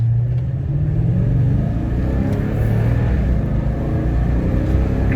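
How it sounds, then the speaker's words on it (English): A Toyota Tundra TRD Pro with an intake airflow accelerator rumbles as it accelerates, a steady loud low engine drone heard from inside the cab. "we're gonna accelerate from the same point that I've done in that little intro on my video"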